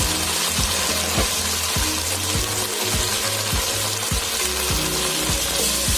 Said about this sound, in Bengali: আসলে তেলে ছিটকা পড়ার কারণে আমি দেখাতে পারিনি